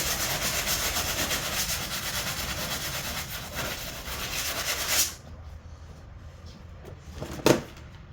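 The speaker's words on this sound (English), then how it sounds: "See if I can scuff that off real quick," Dry, steady scuffing as old gasket is rubbed off a camper shell for a 1999 Ford F150, done with a tool other than a sander. It scrapes on continuously for about five seconds, stops abruptly, and a sharp knock follows.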